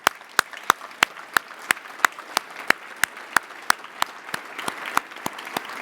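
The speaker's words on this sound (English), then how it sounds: "give them a round of applause" Slow, evenly spaced claps ring out one after another in a steady beat over a faint room murmur, acknowledging students at a public conversation with Canada's housing minister.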